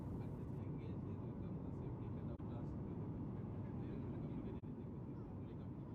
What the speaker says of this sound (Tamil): ஃப்ளைட்டு லேண்ட் ஆக போகுது